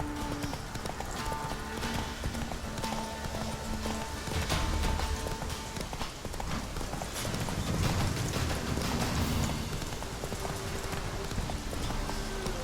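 Roach the horse gallops in The Witcher 3, hooves pounding in a fast, steady clip-clop rhythm close by, with a snort or whinny and game music and ambience underneath; no one talks.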